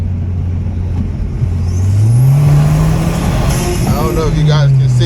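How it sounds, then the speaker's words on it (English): Audi car engine running, then revving up in a smooth rising sweep and holding a higher pitch before settling, loud and close. "if the engine is running the way it should be"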